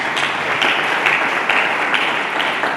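Church congregation applauding during a sermon, a steady, fairly loud crowd clap with no pauses.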